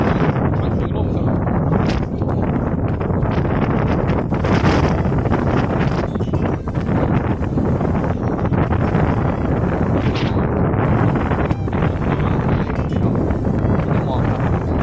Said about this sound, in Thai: มันถึงลมครับ